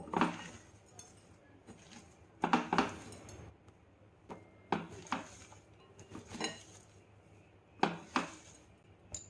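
Chopped onion being mixed with spices in a bowl, heard as a series of close, irregular clinks and scrapes of a spoon against the bowl, coming in short bursts separated by quieter pauses, with no talking.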